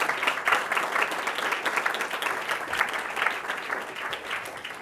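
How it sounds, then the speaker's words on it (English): A downtown business association's event audience gives a full round of applause, dense and sustained clapping at moderate loudness that fills the whole stretch with no voices over it. "please join me in giving them one more round of applause"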